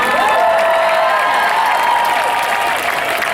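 A large crowd at a protest rally over the Zimmerman verdict cheers, whoops and applauds loudly and continuously, with shouting voices blending into a steady roar.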